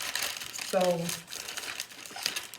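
Cellophane crinkles and rustles close up while wrapping a Scentsy gift set of warmers and wax, with one short spoken word partway through.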